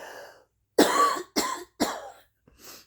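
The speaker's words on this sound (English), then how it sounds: "I'm going to cough." A woman coughs several times in quick succession, loud and close, with short pauses between the bursts and a final softer cough, with no talking alongside.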